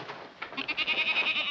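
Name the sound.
goat bleating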